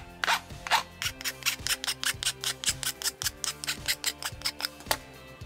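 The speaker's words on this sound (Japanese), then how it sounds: "半丸型ヤスリでこすっておきます。" A half-round file rubbed back and forth over a bamboo rod grip makes a quick, steady run of close rasping strokes, each a short scraping burst repeating roughly every quarter second.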